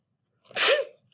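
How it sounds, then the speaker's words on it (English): A single sneeze, short and fairly close, standing alone in an otherwise quiet room with no talking around it. "My sneeze."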